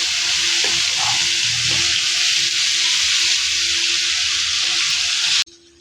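Tomato paste made in a mixer jar frying in hot oil for tomato chutney, a loud continuous close sizzle with a few stirring scrapes early on, cutting off abruptly near the end.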